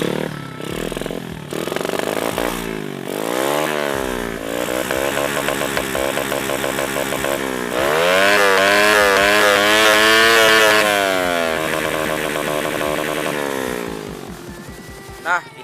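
A motorcycle with a PE carburetor fitted with drilled 35 and 98 jets revs loudly and close, its engine pitch sweeping up and down repeatedly before climbing into a long sustained high rev, then dropping away.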